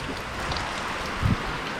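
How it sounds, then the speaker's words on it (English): Rain falls steadily outdoors around a truck, a soft continuous patter and hiss with one brief louder thump, close by, with no voices. "I hate getting rained on."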